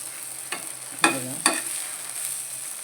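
Okra (bhindi) frying in a pan, a soft steady sizzle with three brief clinks and stirring scrapes near the start, close and fairly quiet.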